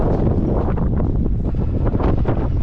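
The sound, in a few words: wind blowing into the microphone outdoors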